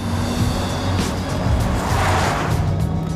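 A Porsche Taycan electric car accelerates hard, giving a continuous, close road-and-motor roar without pauses and with no voices.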